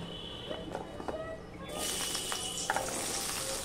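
Jackfruit, potato, carrot and banana stem hit hot oil and break into a steady, bright sizzle that rises suddenly and holds, following a few soft clatters from the pan.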